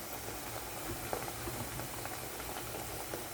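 Burelu fry in hot oil with a steady, close, even sizzle that hisses on without pause, and faint pops flick through the bubbling.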